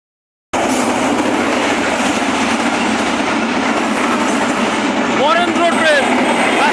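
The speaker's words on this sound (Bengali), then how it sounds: "বরেন্দ্র ট্রেন, রাজশাহী থেকে।" The Barendra passenger train from Rajshahi rolls steadily past on the rails near a small rural station, with continuous loud rumbling and clattering throughout and a brief metallic wheel squeal toward the end.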